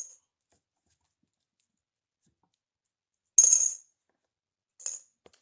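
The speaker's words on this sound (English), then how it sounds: "And I'm going to put my coins in the jar." Coins dropped into a glass jar give two bright metallic clinks with a short rattle, the first longer and the second shorter, separated by silence.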